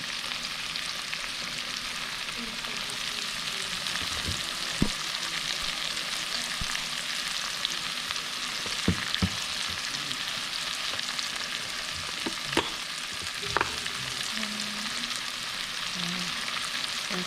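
Meat seasoned with pepper frying in a pan for a three-meat Alfredo, a constant even sizzle with occasional small pops and utensil taps, no talking.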